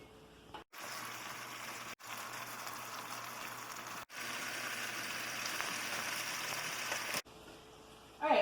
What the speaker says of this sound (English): this has been frying for about 10 minutes